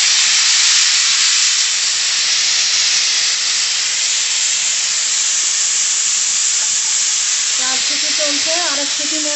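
Pressure cooker whistling steam while potatoes cook, a loud continuous hiss filling the room, with faint chirping squeaks near the end.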